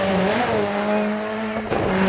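Rally car engine in the DiRT 4 racing game, revving high and steady with rising and falling pitch, then a brief dip and sharp change as the car shifts, loud and continuous.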